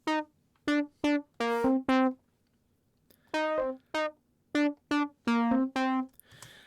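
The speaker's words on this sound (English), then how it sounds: "the first one is a Serum lead sound, which I took from a pack" A dry Serum synth lead from a sample pack, used in an Ableton Live track, plays short bright plucky notes in two phrases separated by a brief pause, loud and up front with no effects.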